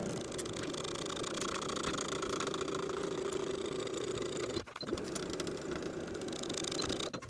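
A sewing machine stitches a skirt's side seam in one long, steady, continuous whir, close and even, with a brief pause partway through before it resumes at the same pace.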